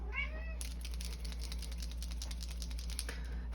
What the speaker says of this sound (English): I don't know why this cat is going as crazy as he is.